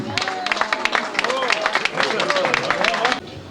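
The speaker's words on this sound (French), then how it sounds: "On peut l'applaudir bien fort" A crowd at a Limoux wine-brotherhood ceremony breaks into loud, sustained applause with dense clapping and some chatter, which drops off abruptly near the end.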